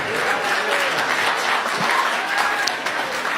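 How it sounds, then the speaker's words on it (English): A comedy club crowd at a stand-up crowd-work show breaks into applause, dense steady clapping that fills the room throughout, with faint voices and cheers mixed underneath. "I don't know what y'all clapping for."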